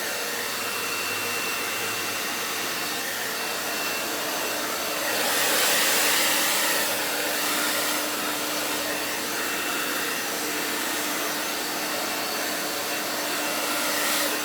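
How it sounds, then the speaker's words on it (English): A hair-dryer-style air blower roars steadily at wet red, green and gold acrylic paint poured on a canvas, a continuous close whooshing hum that swells briefly midway, with no talking. "Literally trying to blow the paint right off the"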